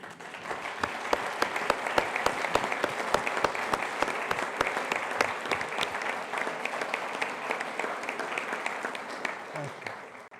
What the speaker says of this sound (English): I want this crowd to give you a hand.